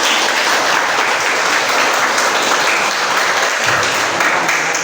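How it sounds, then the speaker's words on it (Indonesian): Dense, sustained applause from a crowd at a school teaching assessment, loud and even throughout with no pauses or voices standing out. "Tepuk tangan untuk kita semua."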